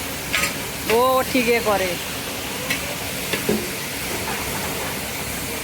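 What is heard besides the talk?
chicken being stir-fried and sizzling in a pan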